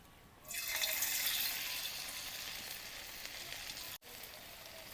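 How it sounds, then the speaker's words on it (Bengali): Corn pakora fritters dropped into hot white oil in a wok, a sudden loud sizzle and crackle that swells then settles into a steady frying hiss with a brief break near the end. "তেল গরম হয়ে গেছে, বড়াটা দিয়ে দিলাম।"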